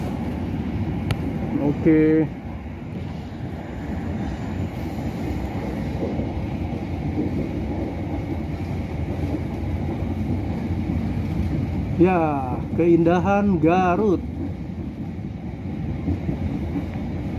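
A local train runs on the Cibatu to Bandung line with a steady low rumble throughout, and a voice briefly speaks over it.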